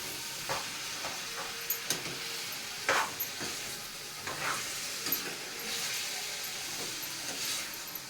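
Onion and tomato sizzle steadily in a hot pan, a continuous frying hiss broken by occasional stirring scrapes and clinks, close up with no talking.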